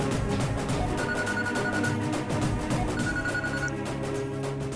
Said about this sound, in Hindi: दीदी, जीजू का फोन है।